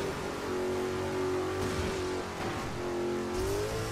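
In Midnight Club 3, a car engine revs hard with nitro boost, a loud sustained whine that holds its pitch, dips briefly and climbs again over steady road noise.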